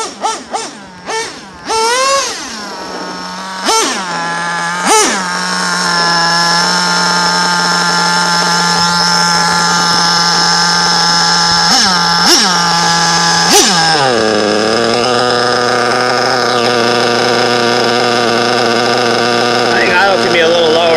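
A nitro engine idles steadily and loudly at close range after a few quick blips of the throttle early on, with its pitch dropping slightly near the end.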